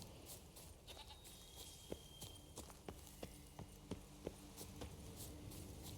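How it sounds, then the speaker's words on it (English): Several goats in The Witcher 3's countryside, scattered short bleats over a low ambient bed, with soft clip-clop hoof steps tapping at intervals throughout. "Numerous goats."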